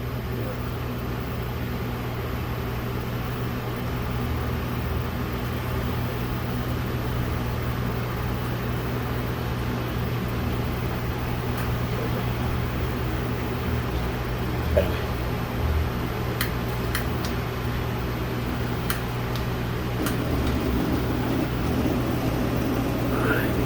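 A gas burner on a food-truck trailer fryer running with a steady, even roar and hum, constant and fairly loud with a few faint clicks near the end, no voices.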